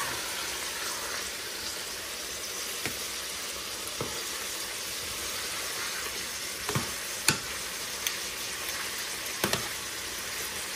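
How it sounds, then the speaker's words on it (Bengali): Chopped onions and green chillies fry in a pan with a steady, continuous sizzle, broken by a few sharp clinks and scrapes of a spatula stirring against the metal. No one speaks. "পেঁয়াজ কুচি আর কাঁচামরিচ দিলাম। এখন ভাজতে থাকি ব্রাউন হওয়া পর্যন্ত।"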